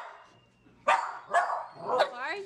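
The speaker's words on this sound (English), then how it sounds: "Barking at me." A dog barks several times up close in quick, sharp bursts followed by a whiny yip, with a person's voice nearby.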